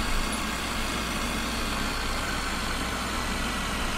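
A lawn mower engine runs at a steady, close, unbroken drone while the mower pops wheelies, holding an even level throughout with no voices.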